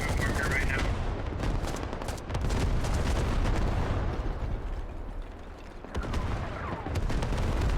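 Artillery barrage in a military shooter's urban combat, Russian airborne troops caught in the open: a constant roar of booming impacts and rattling gunfire, heavy and close, with no clear breaks.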